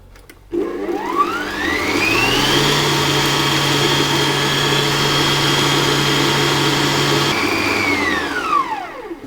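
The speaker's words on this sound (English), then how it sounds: "whisk those until they're fully combined" An electric mixer whisks whoopie pie batter with a steady, loud whirring drone that rises in pitch as it speeds up, holds for several seconds, then winds down; no voices are heard.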